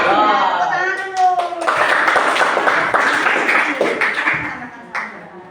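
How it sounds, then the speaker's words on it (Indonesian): A class of children claps together, a burst of dense, loud hand clapping that runs for several seconds and tapers off, with voices talking over it. "Tepuk tangan dulu."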